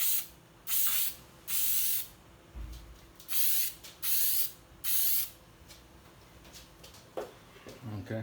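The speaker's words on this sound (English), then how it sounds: "I found that I was spraying my own desk" An aerosol spray paint can hisses in five separate bursts, each about half a second long, close by, with quiet rustling of newspaper between sprays.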